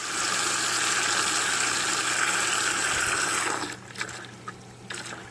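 A ram pump's waste valve dumps water in a loud, steady, continuous gushing rush, then cuts off abruptly, leaving faint drips and a few light knocks.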